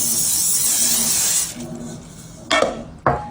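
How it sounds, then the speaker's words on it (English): Cooking spray hisses steadily from an aerosol can into a bundt pan for about a second and a half, loud and close, followed by two sharp metallic clinks of the can or pan. "I need to spray it with cooking spray"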